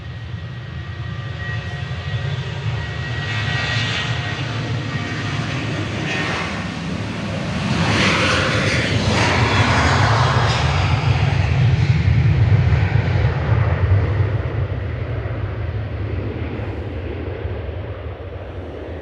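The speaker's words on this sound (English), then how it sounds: "Ryanair heading back to Dublin with flight 1917. This is a 737-800" Ryanair Boeing 737-800 airliner at Manchester Airport, its engines giving a steady broad roar that swells louder midway and holds through the pass before easing off, with no talk over it.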